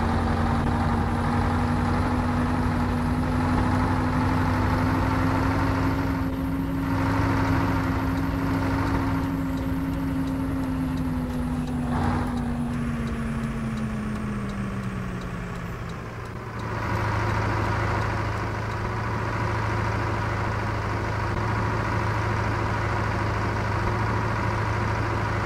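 A MAZ 504 B truck engine in Euro Truck Simulator 2, a loud, steady low diesel drone with a whining tone that slowly falls in pitch as the engine drops back to a constant rumble.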